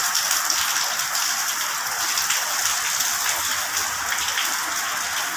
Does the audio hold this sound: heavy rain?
yes